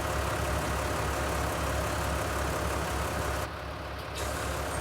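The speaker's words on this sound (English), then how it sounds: "Tractor does sound good." Tractor engine in Farming Simulator 19, on a dairy farm map, runs as a steady, loud diesel drone with a continuous low rumble throughout and a brief dip in the upper hiss near the end; no one talks.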